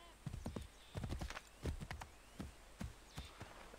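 Horse hooves in Assassin's Creed 3: an irregular clip-clop of hoof steps with a brief whinny, fairly quiet, over a soft ambient game background.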